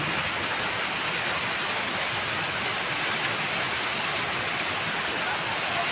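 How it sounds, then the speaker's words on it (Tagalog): Heavy rain pours down in a dense, constant hiss, steady and loud throughout with no pauses. "Medyo malakas ang ulan."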